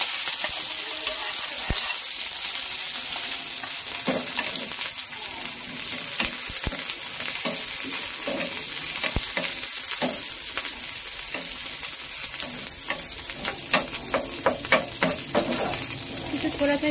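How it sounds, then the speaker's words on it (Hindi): Chopped onions frying in a small amount of oil with garlic, a steady loud sizzle filling the pan while a spoon stirs and scrapes, with clicks and taps from the utensil. "अब इसमें हम इस तरह का प्याज डाल देंगे, थोड़ा सा फ्राई कर लेंगे।"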